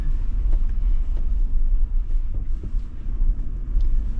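Truck on Rocky Mountain AT tires driving off road through mud, a low rumbling roll with bumps and jolts and wind buffeting the microphone, no talk.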